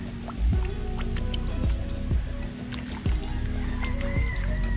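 A hand splashing the water of a koi pond to call the fish: several sharp slaps and splashes spaced about a second apart, close by, over a soft background hum.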